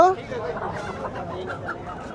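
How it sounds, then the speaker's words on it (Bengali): Native roosters for sale at a rural Bangladeshi market give a brief cluck and squawk at the start, then market chatter continues faintly in the background. "মোরগ দেশি হ্যাঁ, মোরগ"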